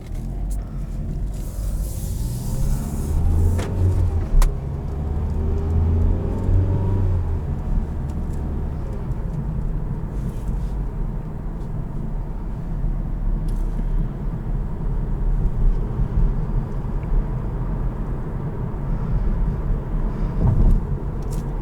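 A 2016 Mazda CX-3 Grand Touring on the road, heard from inside as a steady low engine and road rumble with tyre noise that holds level throughout, broken by a few brief clicks and knocks.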